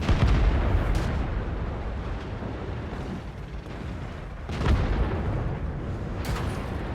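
The T-34-85 Rudy, a tier 6 Soviet premium medium tank in a video game, fires its gun twice, each a heavy booming blast with a rumbling tail, over continuous low engine and battle rumble.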